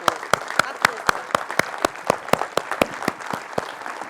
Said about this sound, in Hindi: एंड आपका ताली रुकना नहीं चाहिए।